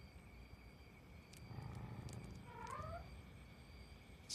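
A cat gives a drawn-out, wavering meow in a quiet room, faint and somewhat distant, with a low background hum.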